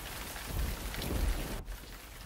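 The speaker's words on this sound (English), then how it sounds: "Ugh, it's freezing outside. Such a horrible storm." Heavy rain from a storm pours outside as a steady hiss, with a low rumble swelling briefly and a short dip near the end, heard alone without speech.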